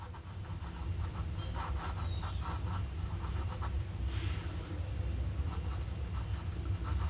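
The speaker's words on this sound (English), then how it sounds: "let's do a writing sample and have a look at this very fine nib" A Sheaffer 330 fountain pen with an extra fine nib scratches across paper in close, quiet strokes, a soft rhythmic rubbing with short pauses between words.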